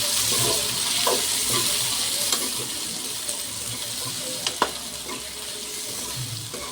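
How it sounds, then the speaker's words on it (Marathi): Tomatoes fry with onions in a pan, giving a steady close sizzle with occasional scraping clicks from stirring throughout. "आता आपण यामध्ये टाकणार आपले टमाटर। टमाटर घेऊ आपण याच्यामध्ये हलवू।"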